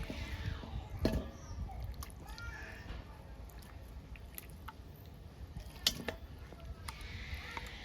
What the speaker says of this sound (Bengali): মাংসটা আমি আগে মশলা দিয়ে মাখিয়ে রাখবো